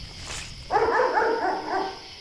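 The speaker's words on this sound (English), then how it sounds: "Since when does Jonas have a dog?" A dog in a house basement gives a run of muffled, rapid barks and yelps, steady and fairly close, over a constant background hiss.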